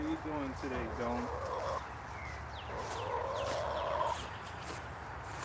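Chickens fussing without their feed, with clucking and cooing calls in the first seconds and then ongoing bird murmur under steady background noise.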